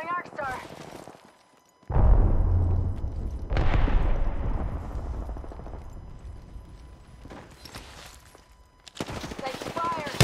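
Gunfire in Apex Legends in a pistol fight, a few loud booming shots and bursts with long decaying echoes, near and heavy, with brief game voice lines at the start and end.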